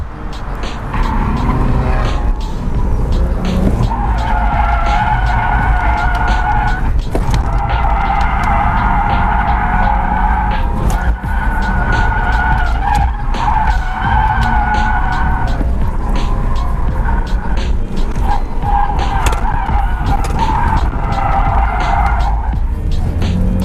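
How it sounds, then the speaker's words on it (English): A drift car slides around a track, its tires skidding and squealing in long sustained bursts over a loud, steady engine roar, close and continuous with brief breaks between slides. "you could go out on the track and you could just get a feel for drifting"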